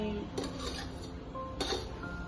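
Rice scooped from a pot onto a plate for dinner: a few soft scrapes and two sharp clinks of a serving spoon against dishes, quiet and close.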